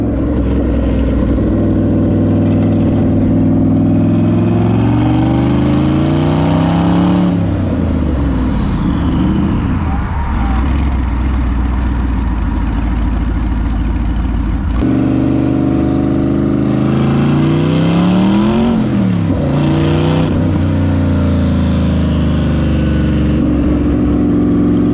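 A car engine revs up and down while driving, loud and close, with rising and falling pitch sweeps as it accelerates, shifts and eases off twice.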